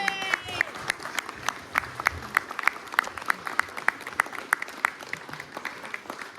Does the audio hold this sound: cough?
no